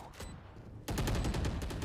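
Bursts of rapid gunfire in the video game Valorant during a competitive esports match, quiet at first then a sudden loud volley of repeated shots filling the second half.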